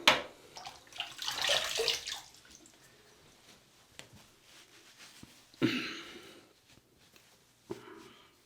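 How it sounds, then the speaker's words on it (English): Water splashing and rinsing a face after a wet shave with a Rockwell T2 safety razor, a few scattered bursts of splashes and drips, soft and close, separated by quiet gaps. "And let's have a rinse and see how we did."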